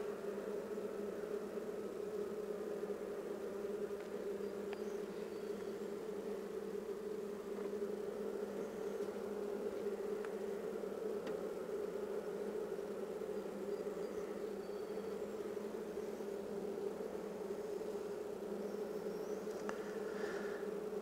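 Honeybees hum in a dense, continuous drone at a hive, steady and close throughout, with no voices.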